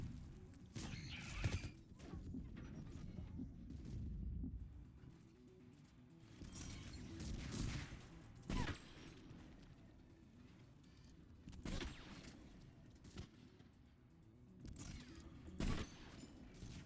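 An AA gun firing in Mass Effect 3, heard as repeated heavy bursts of rapid fire in clustered volleys, separated by quieter stretches of low mechanical rumble, with no voices.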